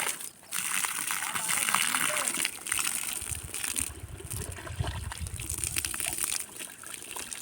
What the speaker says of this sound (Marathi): आणि हे पाणी आलं इथं. छोटासा नली तो.